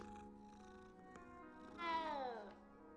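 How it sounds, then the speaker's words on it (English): A cat meows in the video game Hogwarts Legacy with one clear, drawn-out, falling mew near the end. A steady game music bed and a quieter voice run underneath. "I want a cute cat."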